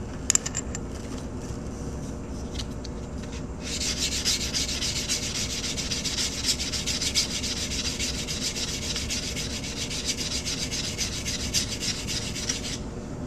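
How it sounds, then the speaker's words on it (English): Cut edges of coin rings are sanded by hand, starting with a few light scrapes, then a steady, close rasping rub that continues for about ten seconds with occasional small metallic clicks. "I'm just going to sand up the cut edge on these real quick"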